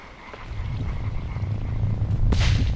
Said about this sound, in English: I can hear frogs now.